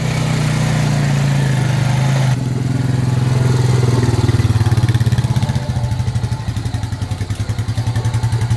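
A quad bike engine chugs loudly and close by, idling steadily before settling into a rougher, pulsing rhythm.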